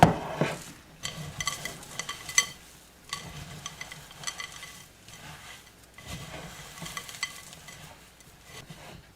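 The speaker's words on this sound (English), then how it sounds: "we're gonna add everything together now, and we're just going to mix all this together" Gluten-free granola bar dry ingredients stirred together with a peanut butter mixture in a bowl, repeated scraping and thick sticky stirring strokes in uneven bursts, close and moderately loud.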